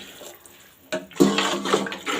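About 2.5 litres of water is poured into a pot of fried vegetables and rice for a vegetable pulao, starting softly then splashing in louder bursts, close by with no talking.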